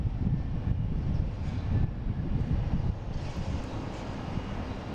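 A Delta Airbus A321neo arriving from Denver at Boston Logan rumbles loud and low, a broad steady engine roar blended with wind buffeting.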